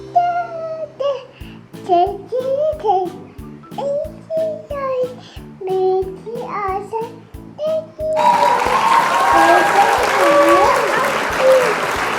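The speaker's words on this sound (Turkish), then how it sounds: "Alkış." A small child sings in short broken phrases at home, then a group breaks into loud, sustained clapping and cheering for the child.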